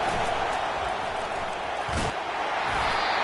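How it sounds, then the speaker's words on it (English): A big football stadium crowd roars loudly to rally its defense late in the game, a dense, steady wall of cheering and noise that swells briefly near the middle. "It is getting loud as this crowd tries to help its defense."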